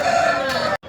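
A rooster at a Pileru hen market gives a loud, close, continuous raspy call lasting most of the moment, breaking off abruptly near the end.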